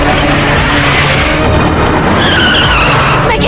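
A car skids in a dramatic film scene, tires screeching loudly and continuously over a roaring engine for several seconds, harsh and close.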